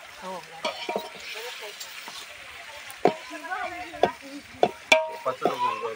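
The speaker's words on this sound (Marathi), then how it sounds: "झालं थोडी ही फोडणी" Tempering sizzles in oil for a red chicken gravy cooked outdoors, a crackling fry broken by sharp clinks and scrapes of stirring, close and moderately loud with no talk.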